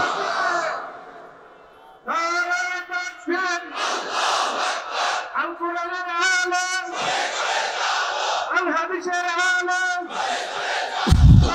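A large crowd at a Bangladeshi religious waz gathering answers a takbir call with loud, repeated unison chants of Allahu Akbar in several surging waves, filling the space with massed voices.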